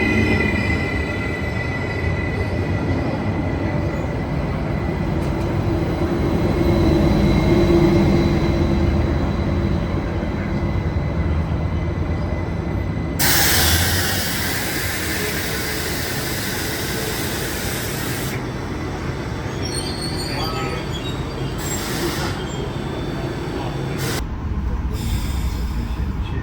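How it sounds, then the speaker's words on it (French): Diesel train pulling into an O-Train station platform in Ottawa: a loud rumbling engine and rolling wheels close by, with brake hiss and bursts of air noise as it slows, plus high squeals near the end. "En direction nord vers Bayview, entre dans la station."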